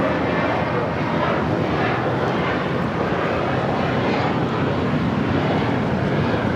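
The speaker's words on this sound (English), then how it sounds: "This is American Airlines 2024 taking off to Dallas-Fort Worth on the A321" An American Airlines Airbus A321 taking off from Los Angeles (LAX) produces a loud, steady broadband jet roar that holds evenly from start to finish with no talk over it.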